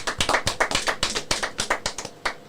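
Small audience clapping at a pro wrestling event, a sparse, uneven patter of distinct hand claps from a few people, fairly close and steady throughout with no talk over it.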